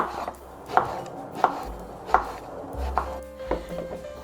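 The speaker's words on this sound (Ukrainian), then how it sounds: "Розрізаємо навпіл і розрізаємо такі кусочки." A knife chops halved eggplant into pieces on a cutting board, giving four evenly spaced firm thuds and a softer final cut, close up and with no speech.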